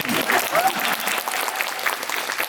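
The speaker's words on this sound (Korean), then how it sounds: "박수 쳐주세요." Theatre audience applauding during a curtain call and stage greeting after a musical performance, a dense, loud, continuous wash of clapping from a large crowd throughout.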